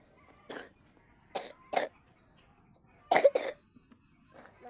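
Several short coughs and throat clears come in separate bursts, a pair close together early, two more spaced apart, then a sharper double cough and a faint final one, all fairly near with quiet pauses between.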